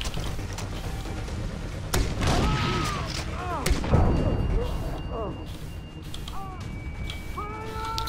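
Gunfire in the video game Far Cry 3, with a sharp broadband shot near two seconds and another near four seconds standing out above a steady game ambience, while voices talk through much of the stretch.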